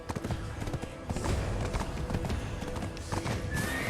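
Horse hooves clatter in a steady galloping beat inside a video game, loud and continuous with a busy game soundtrack and effects layered over them.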